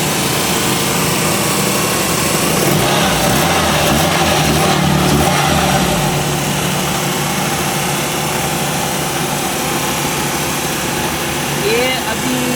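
A 1976 Toyota Corolla KE30 engine idles steadily with a continuous mechanical hum and rattle, loud and close throughout, running without a thermostat.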